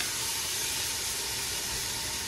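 Steady, broad hiss of pork sizzling as it goes back into a pot of Filipino menudo with chorizo, continuous and fairly close without any talk.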